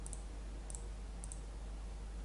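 Computer mouse clicking during polygon modeling in ZBrush, three quick double clicks spaced evenly over a quiet background hum, faint and close.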